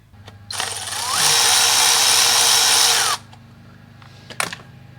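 Power wrench driving a spark plug bolt on a 5.7L Hemi engine: one sustained whirring burst of about two and a half seconds that rises in pitch, then cuts off, followed by a few faint clicks and a short knock.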